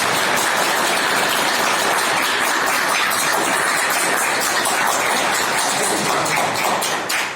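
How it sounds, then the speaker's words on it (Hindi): A large audience claps loudly and steadily, a dense roar of applause that holds at full strength for several seconds and only starts to ease at the very end. "एक बार जोरदार ताली की अपने लिए।"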